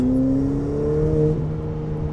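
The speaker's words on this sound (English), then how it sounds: "this thing just picks up speed like few cars" A Ferrari F8 Tributo V8 supercar accelerates, its engine droning steadily with a smooth, sustained tone that shifts slightly in pitch, loud and close.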